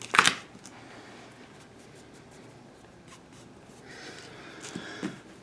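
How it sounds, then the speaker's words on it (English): Spandex fabric is folded over and pressed into a sharp crease, opening with a brief close rustle, then quiet soft rubbing and a few faint scuffs and swishes toward the end, with no voices. "We're now going to fold this over so we can get a nice sharp fold onto the spandex"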